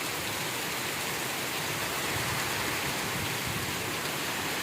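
Steady, dense rainfall pours down without pause, a thick broadband hiss with a soft patter of drops on surfaces throughout.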